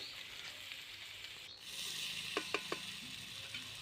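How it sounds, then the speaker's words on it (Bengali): Chopped potatoes frying in a pan for a village-style soybean vegetarian dish, a steady moderate sizzle with a few sharp clicks of a utensil against the pan near the end. "এবার আমি কেটে রাখা আলুগুলো এর মধ্যে দিয়ে দিলাম দিয়ে এটাকে পাঁচ মিনিট মতো ভালো করে ভেজে নেব"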